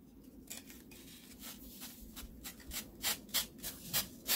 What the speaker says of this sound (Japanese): ちょっと音がすごいんですけれども、丁寧に紙やすりで角を落としていきます。